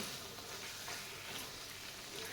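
Paneer roasting in masala in a pan gives a steady, soft sizzle with faint stirring scrapes, even and continuous throughout.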